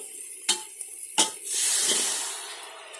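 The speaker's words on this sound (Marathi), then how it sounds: "मी आता सर्व भाज्या ओतते पहिले" Chopped vegetables are tipped into a pot of sambar already simmering with curry leaves and masala: two sharp clatters against the pot, then a soft rushing splash and sizzle that fades out, close and fairly quiet.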